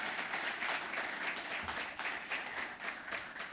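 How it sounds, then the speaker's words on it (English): Steady applause from an audience at an investment talk for young entrepreneurs, a dense even wash of clapping filling the room without pause and with no voices over it. "Round of applause,"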